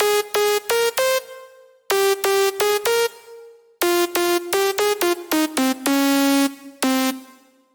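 A slap house synth lead preset called Clicker, with a sharp clicky attack, plays a quick melodic phrase of short, bright, sustained notes in bursts separated by brief pauses, clear and alone.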